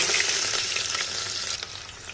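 Onions sizzle loudly in hot, smoking oil in a home kitchen in Kashmir, a dense, steady crackle with faint stirring scrapes, close up and with no talking.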